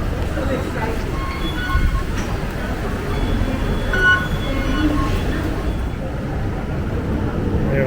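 Hong Kong subway train running under the harbor toward Kowloon, a steady, loud low rumble and rattle from inside the car, with faint tonal whines and murmured voices in the background.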